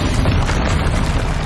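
Heavy booming blast of the Bombarda spell in the video game Hogwarts Legacy, a loud, sustained rumbling explosion filling the whole moment.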